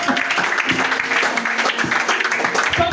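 A church congregation claps and cheers loudly to acclaim Jesus, a dense, continuous burst of applause with voices mixed through it.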